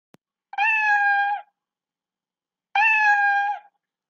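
Two clear, drawn-out cat meows, each about a second long, separated by a short silence; close and fairly loud.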